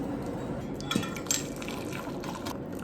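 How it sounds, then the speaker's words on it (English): Boiling water poured into a pot with bouillon, a continuous rushing gurgle of liquid filling the pot, with a couple of brief clinks partway through, no talking. "2 cups of hot water. 2 cups of boiling water, I should say."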